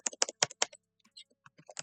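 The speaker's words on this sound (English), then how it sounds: "Let's type" Quick bursts of computer keyboard typing, a handful of crisp clustered keystrokes followed by a few lighter scattered taps, close and quiet.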